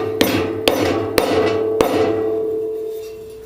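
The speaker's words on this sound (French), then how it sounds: "surtout on n'utilise pas un marteau, on va utiliser un maillet" A mallet taps a fragile part during restoration of a 1960s Louison Bobet Spécial Tour de France bicycle. Four loud, ringing strikes are spaced about half a second apart, and a lingering metallic resonance fades out.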